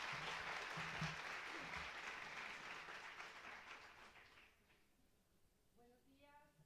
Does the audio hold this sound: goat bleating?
no